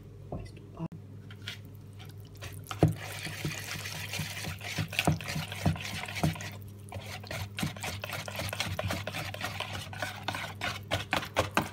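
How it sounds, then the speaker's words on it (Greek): A spoon stirs a thick flour-and-water batter for a phyllo pie in a bowl. Soft, wet squishes and scrapes repeat in an uneven rhythm, close and moderately loud, with a voice at times in the background. "πρώτα θα ανακατέψω λίγο να δω γιατί θέλω ο χυλός μου να είναι λίγο σφιχτός και όχι πολύ νερουλός"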